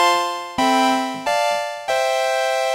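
Initialized blank patch on a DeepMind synthesizer plays four bright, buzzy sawtooth-like notes in a row, each starting sharply and slowly fading, with no talking.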